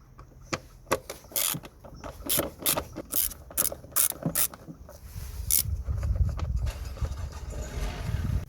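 Ratchet wrench clicking out screws on a Citroen C3 1.4 during a service, quick bursts of sharp ratcheting clicks in irregular groups, close and clear, followed by a few softer rustles and handling noises, no talk.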